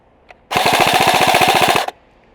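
A Cybergun FN Herstal FN2000 airsoft AEG on a 7.4 battery fires one continuous full-auto burst of about 1.4 seconds: a rapid, even rattle of shots, loud and close. A faint click comes just before it.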